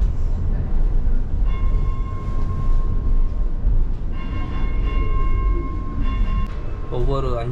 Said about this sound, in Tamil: ஒவ்வொரு 5-3 நிமிஷத்துக்கு பிறகு அந்த மெட்ரோ ட்ரெம் வந்துக்கிட்டே இருக்கும்.